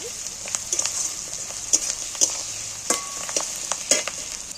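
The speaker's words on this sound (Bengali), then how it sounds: "রসুন বাটা রেখেছিল সেইটা একটু পেঁয়াজের সঙ্গে নেড়ে দিই" Garlic paste fries with onions in a pan, giving a bright sizzle broken by sharp stirring clicks and scrapes in an irregular rhythm, close by, with no talking.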